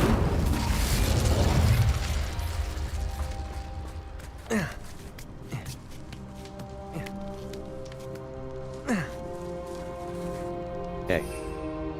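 Incendio fire spell in Hogwarts Legacy, a whooshing burst of flame in the opening seconds followed by several short sharp magical zaps and pops spaced out over a humming ambient background.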